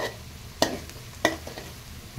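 Botti gongura curry stirred in a pan, a spoon scraping through thick meat and greens in three sharp strokes spaced about a second apart, with a low sizzle underneath.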